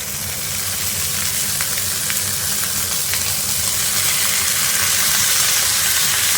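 Mustard flowers frying with prawns in a pan, a steady close hissing sizzle throughout with faint stirring clicks, no voices.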